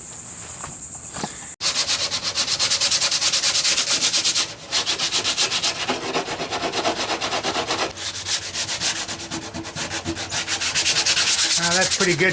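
The foam of a broken surfboard nose is sanded with rapid, rhythmic rasping strokes, loud and close, continuing steadily with brief pauses.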